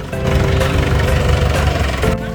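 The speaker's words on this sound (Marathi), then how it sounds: "पोटभर नाश्ता करून आम्ही ट्रॅक्टर राईड करायला निघालो." A tractor engine runs steadily for a village tractor ride pulling attached carriages, a close, loud, chugging mid-pitched idle with constant rumble and no pauses.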